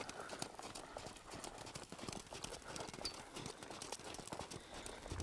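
A mare's hooves clop at a quick, steady rhythm during cattle work, the beats soft and fairly distant over the ground, with no talking.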